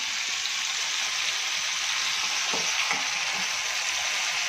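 Onion gravy frying in oil for a Kathiyawadi whole-onion curry, a continuous even sizzle with a few soft stirring scrapes midway, close and steady with no talk.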